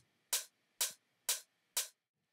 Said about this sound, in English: There is a hi-hat playing on the offbeat. Sounds like this.